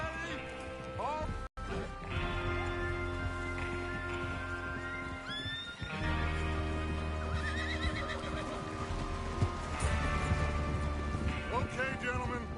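Horses in a video game whinny with rising and falling calls over hooves and background game sound, while characters talk over it.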